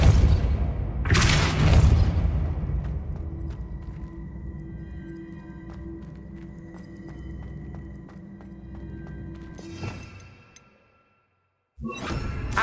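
A Depulso spell is cast in Hogwarts Legacy, a deep booming whoosh that swells over the first two seconds, followed by a sustained low resonant hum and scattered game effects. A sharp burst near the end follows a brief silence.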